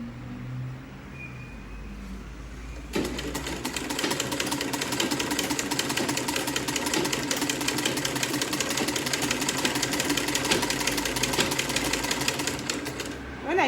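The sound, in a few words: sewing machine stitching corset boning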